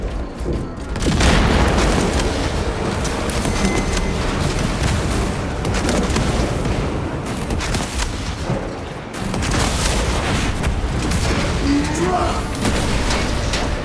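Repeated crack grenade blasts and heavy combat booms in Warhammer 40k Space Marine 2 on Veteran difficulty, a dense, loud barrage of explosions and gunfire filling the whole stretch, with a brief lull near the middle before it resumes.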